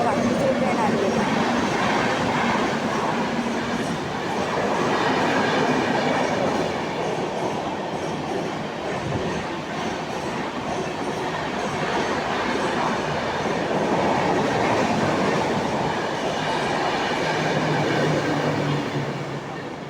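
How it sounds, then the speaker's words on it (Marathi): A Mumbai suburban local train on the Virar–Dadar line rolls into a station and passes close by, loud, with rumbling wheels and rhythmic clatter over the rails that swells and eases, while voices murmur in the background. "दुसरी ट्रेन आली आहे"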